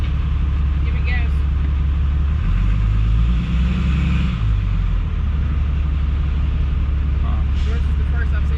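A truck engine rumbles steadily during a DOT inspection and rises in a brief rev around the middle before settling back to idle, close and loud, with faint voices beneath.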